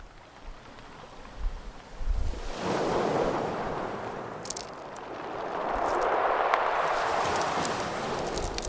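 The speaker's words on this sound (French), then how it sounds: "Les galets sont les instruments de musique que les vagues utilisent pour faire de la musique." Sea waves washing over a pebble beach at night in Nice, soft surges building and receding with a rattling hiss of stones as water drains back, some wind noise on the microphone, no voices.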